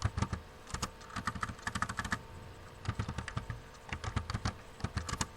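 Computer keyboard typing while a message is entered into an online form, rapid clusters of close, crisp key clicks in several bursts with short pauses between them.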